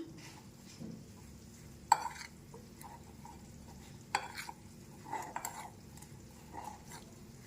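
Ground chili, garlic and salt are worked into bitter gourd kakarakaya pickle in a mixing bowl, giving soft, quiet scraping and stirring with a few sharp clicks of a utensil against the bowl.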